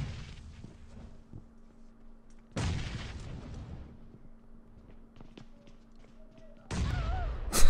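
Two heavy booms from grenades in PUBG Mobile strike several seconds apart, each a sudden loud blast with a rumbling tail, over quiet ambient game noise and a steady low hum.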